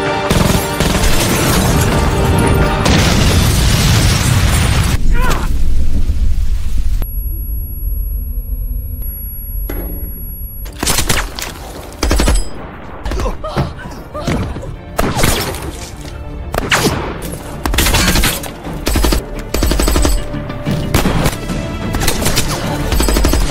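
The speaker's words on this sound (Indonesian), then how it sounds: "Jin-soo yang memantau dari kejauhan langsung melepaskan tembakan beratnya. Seketika baku tembak pecah" A film shootout erupts with heavy gunfire, dense rapid shots, booms and shattering glass, a brief near-silent lull, then renewed bursts of loud, sharp firing.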